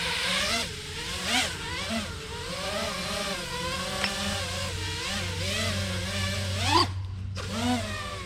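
A racing drone hovering in a backyard for a post-crash test, its motors giving a steady, close buzzing whine with rising and falling pitch surges, briefly cutting out near the end before spinning back up.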